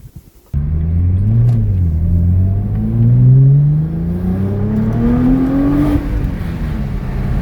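A Nissan GT-R with a catless mid pipe revs loudly and close, its pitch climbing through several rising blips before dropping back toward idle.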